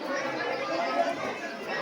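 A dense crowd chatters steadily at the Chandeshwar temple during a Boita Yatra festival, a continuous babble of many voices close by with no pauses.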